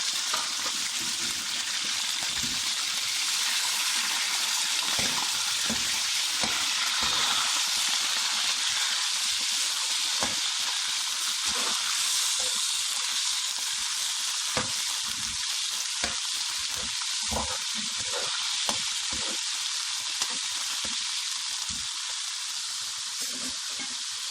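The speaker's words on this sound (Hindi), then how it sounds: "अब इसमें पहले गोश्त फ्राई कर लेंगे।" Mutton pieces fry in hot oil with a dense, continuous sizzle and crackle that holds loud and steady throughout, with scattered pops and occasional stirring clatter nearby.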